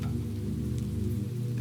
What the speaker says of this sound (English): The first raindrops came as a whisper. They touched the rooftops with such delicacy that the sound was almost imagined.